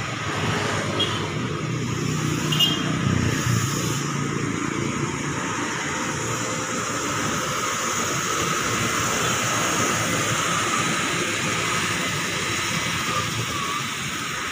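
A KRL JR205 commuter electric train creeps very slowly into Bekasi station on a trial run over a new track, giving a steady, continuous rumble and rolling hum throughout, with no talk.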